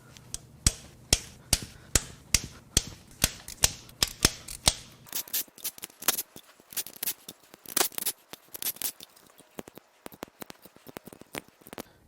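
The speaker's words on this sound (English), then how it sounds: "Let's get these rockers and push rods out and tear this head off." Metal rocker arms and push rods being pulled from the cylinder head of a Dodge Viper V10 engine: a steady run of sharp, close clicks and clanks, then more scattered rattles and taps, with no talk.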